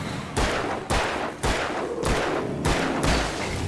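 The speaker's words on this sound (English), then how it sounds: "Let's try the flare gun again here when they all come." Repeated gunfire bursts from the flare gun in the Alan Wake video game, five loud broadband blasts spaced roughly half a second apart, each with a sharp onset and a dense noisy tail.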